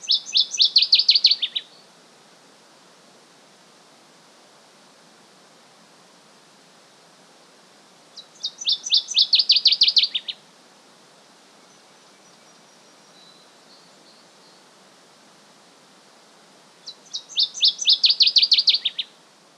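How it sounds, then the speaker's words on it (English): Three bursts of bright, rapid chirping song from a northern waterthrush, each a couple of seconds long and spaced well apart, clear and close over a steady rushing-water background. "a northern water thrush is much closer to the mic, so you can hear the call much more clearly."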